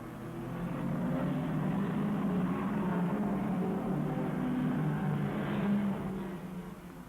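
An MG racing car's engine drones steadily throughout a race, a continuous mid-distance roar with a slight swell near the end, no voices over it.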